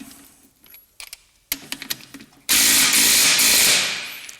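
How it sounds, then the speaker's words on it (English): An impact gun tightens the nut on a spring and damper assembly of a Land Rover Discovery 1. A few close clicks and metallic rattles come first, then a loud, sustained hammering burst from the tool. "if you've got an impact gun, you can just use that to tighten the nut up"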